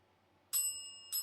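A bicycle-style bell rings twice, two bright metallic dings about half a second apart, close and clear over a near-silent background, the first ring sustaining longer before the second strike.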